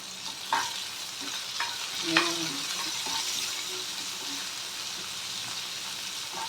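Onions sautéing in a pan give a steady soft sizzle, with a few utensil taps and scrapes near the start over the constant frying hiss.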